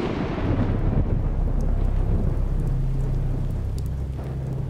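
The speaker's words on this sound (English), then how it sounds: "Out of nowhere, a storm roars in, bringing 70-mile-an-hour winds that threaten to hurl me off the peak." A storm on a Scottish mountain peak roars with heavy rain and strong winds of around 70 miles an hour, a loud, dense, continuous rush and low buffeting rumble with no voices.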